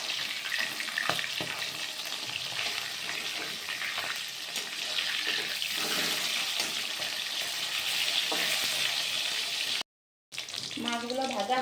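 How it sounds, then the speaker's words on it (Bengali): Katla fish pieces, turned to the other side, fry in hot oil in a wok with a steady, bright sizzle and scattered pops and scrapes, then a short break and a brief spoken voice. "আমি উল্টো দিকে এখন ভেজে নিব।"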